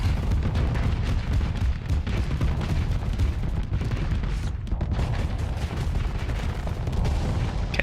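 Canister flak guns fire in a Starsector space battle, a dense, continuous roar of booming flak bursts and rumbling gunfire layered thickly for the whole stretch with no pauses.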